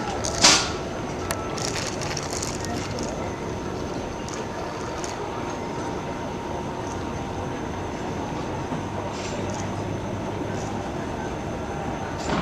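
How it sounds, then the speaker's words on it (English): The 1880 Train heritage railway at Hill City, South Dakota, a faint steady rolling rumble with a few soft clanks at the start, heard from on or near the train. "I'm at Hill City, gonna go on the 1880 train."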